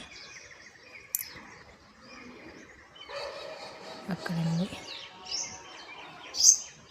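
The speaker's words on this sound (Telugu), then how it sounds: "ఈ విధంగా పక్షుల శబ్దాలు వినిపిస్తున్నాయి కదండి" Faint bird chirps and tweets come from outdoors among quiet background noise, with a brief spoken word and a distant dog bark.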